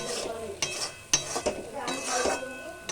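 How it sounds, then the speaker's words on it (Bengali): A spatula stirs fried spice paste with potatoes in a pan over a high gas flame for shahi paneer, giving scraping strokes and metallic clinks over a soft sizzle, close and irregular. "গ্যাসটা বাড়িয়ে আরেকবার নাড়াচাড়া করব।"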